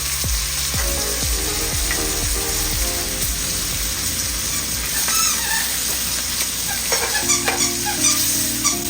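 Butter melts and sizzles in a cast iron pan, a steady crackling hiss with light clinks and scraping as it is stirred, with no talking.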